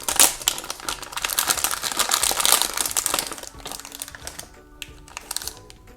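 Crinkly plastic wrapping of a Moji Pops surprise toy packet rustles and crackles loudly for several seconds, then gives way to a few quieter, scattered crinkles.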